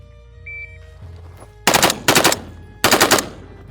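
Delta Team Tactical FRT-15 L3 forced-reset rifle fired in three fast rapid-fire strings, each a tight burst of sharp, loud cracks separated by short pauses, following a quiet lead-in with faint electronic tones.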